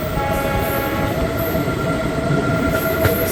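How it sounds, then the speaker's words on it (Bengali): A train runs through Nabadwip Dham station at night, heard from on board as a continuous rumble of wheels on rails with faint squealing tones and a brief metallic clank near the end. "আমাদের ট্রেন এখন নবদ্বীপ স্টেশন ক্রস করছে, নবদ্বীপ ধাম, কিন্তু মনে হচ্ছে ট্রেন দাঁড়িয়ে পড়বে।"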